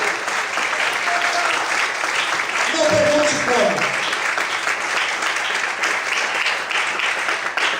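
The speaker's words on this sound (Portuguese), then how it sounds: "Será que você pode glorificar a Ele e aplaudir bem forte o nome do Senhor?" A church congregation claps loudly and steadily during a service, with a few cheers near the middle. A preacher's voice speaks briefly over the applause.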